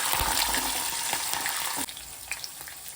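Garlic sizzles loudly as it fries in hot oil for lemon semiya pulihora, a steady close crackle that drops sharply partway through, leaving faint bubbling and occasional pops.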